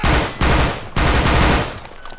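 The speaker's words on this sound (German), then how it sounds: "Leute, wir stehen hier wirklich unter Beschuss." Heavy sustained gunfire in Grand Theft Auto V during a police SWAT raid on a laboratory, loud and dense bursts filling the clip with short breaks between volleys.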